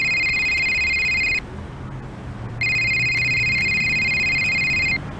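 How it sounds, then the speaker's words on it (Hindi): A telephone rings in a room with two long, loud electronic ring bursts separated by a short pause, the second starting up after the gap. "तभी फ़ोन की घंटी बजी"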